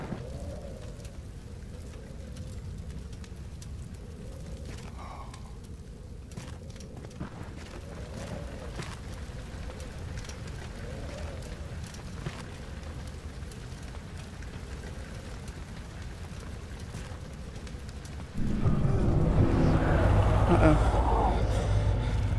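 Steady rain in Rainy Hall in Amnesia: The Dark Descent, a constant wash of falling water with soft repeating swells, and a louder roaring burst near the end. A voice talks over it at times.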